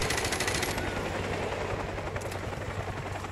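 Sustained automatic gunfire in Call of Duty: Modern Warfare Remastered, a dense steady rattle of shots over an engine-like drone, loud and close throughout with no talk.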